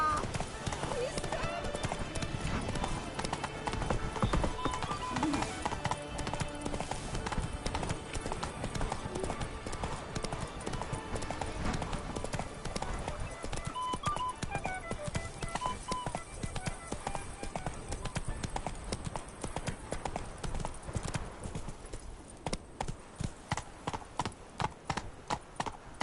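Roach, the horse from The Witcher 3, gallops in a continuous fast clip-clop of hooves, close and steady for the whole stretch, with game music and voices over it.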